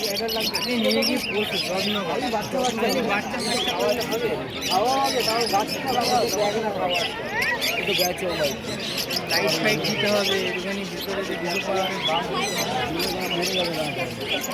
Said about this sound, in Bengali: দেখতে পাচ্ছেন বদ্রি আছে লাভবার্ড আছে